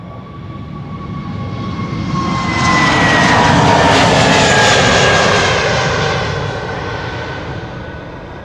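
Airliners roll for takeoff back to back from the runway threshold at Schiphol Airport, a loud jet roar swelling to a peak as one passes nearby, then easing while a broad engine whine lingers.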